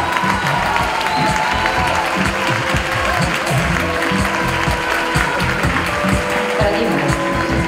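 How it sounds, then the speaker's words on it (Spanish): Loud, sustained applause and cheering from a crowd at the Premios Latino 2017 awards ceremony, dense clapping holding steady throughout with scattered shouts mixed in. "Gabriel Final, fuerte aplauso."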